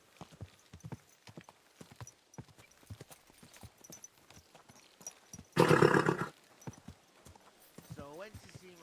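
A horse clip-clops along at a steady walking rhythm in Kingdom Come: Deliverance II, hooves close and clear, broken by a loud burst of neighing partway through.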